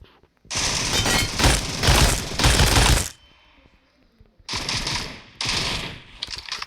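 Bursts of AK 27 rifle gunfire in a video game: two loud, dense automatic volleys, a quieter gap, then two shorter rapid bursts, close and without talk.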